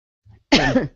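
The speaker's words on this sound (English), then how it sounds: "I was recording when I coughed." A single person coughs sharply, close to the microphone and fairly loud, with a faint throat noise just before it, in a podcast recording setting.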